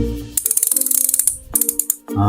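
A thin metal cord, much like fishing line, rattling close by as a quick series of sharp ratchet-like clicks in two bursts, followed by a louder scrape.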